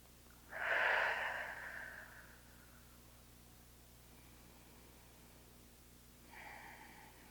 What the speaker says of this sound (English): We're just going to take a few breaths here.